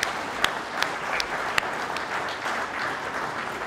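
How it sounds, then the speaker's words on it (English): An audience at an open hardware summit's closing remarks claps steadily, a dense patter of many hands with a few sharper individual claps standing out, moderately loud and continuous with no talk. "There's gonna be like a lot of clapping in this talk."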